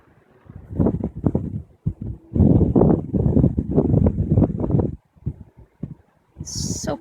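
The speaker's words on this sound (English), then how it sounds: "It's very windy here today." Strong outdoor wind gusts in loud bursts against the microphone, with pauses between blasts, while birds are watched outside; a brief high chirp comes near the end.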